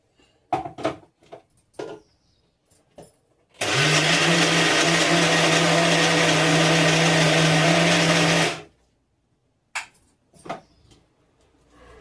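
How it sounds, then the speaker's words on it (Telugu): Mixer grinder grinding coconut, a loud steady whine with a hum that runs for about five seconds, then cuts out cleanly. Short clatters and knocks come before and after it. "ఒక్కసారి మిక్సీ పెడితే పూర్తిగా చిన్న పువ్వు తయారవుతుంది"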